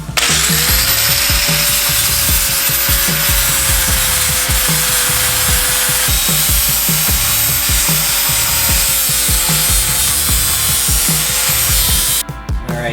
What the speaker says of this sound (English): I'm going to smooth out all 4 of those rivets